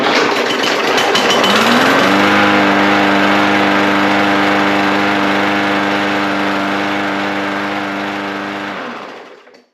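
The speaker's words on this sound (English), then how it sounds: "Okay, the Bolens mower does run." A Bolens lawn mower's small gas engine sputters, catches and settles into a loud, steady droning run close by for several seconds, then cuts off and winds down to silence.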